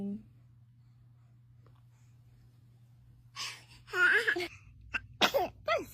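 A baby sneezes in a quiet room with a low steady hum; after several seconds of near-silence come a few close, sharp sneeze bursts mixed with small breathy vocal sounds.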